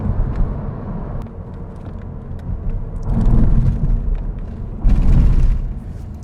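Low rumbling road noise inside a 2022 Honda Civic Hatchback Sport driving on a rough, gravelly surface, a steady loud drone that swells in two heavier surges with no talking.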